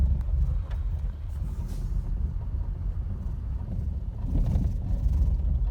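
Steady, loud low rumble of road noise inside a converted bus on the move, with wind buffeting the cabin and the drone swelling slightly near the end; no talking.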